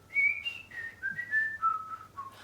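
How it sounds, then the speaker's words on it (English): Someone whistles a short melody from Prokofiev's Toccata, clear and close, stepping down through several sustained notes over a faint low hum. "everybody can whistle that."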